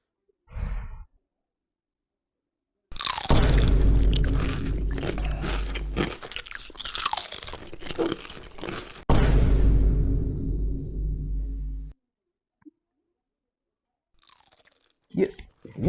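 Chips are chewed loudly and close up in two long bursts of wet crunching and smacking, separated by a brief pause, with quiet sighs and gasps around them.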